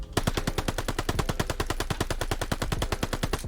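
Sustained automatic gunfire from a video game gun, a fast, even stream of loud close shots hammering away for several seconds with no pauses.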